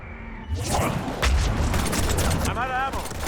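Gunfire and combat noise from a Mass Effect 3 firefight against husks, a dense loud burst of shots and impacts with clattering effects over a continuous battle din.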